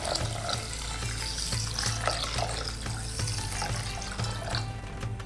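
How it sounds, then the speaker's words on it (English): Water runs steadily from a tap, splashing over soaking basmati rice in a kitchen, a continuous close hiss and gurgle with no pauses. "I'll add some water and set it aside"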